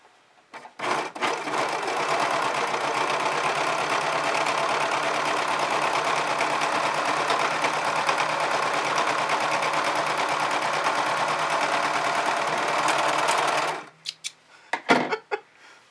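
A Brother 1034D serger runs steadily for about thirteen seconds while stitching cotton fabric at zeroed thread settings, a loud, dense mechanical whir that stops abruptly, followed by a few short clicks and handling noises.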